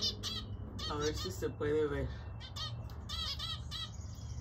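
Birds and chicks in an aviary chirp and squawk in quick bursts, close and fairly faint, with a person speaking softly among the calls.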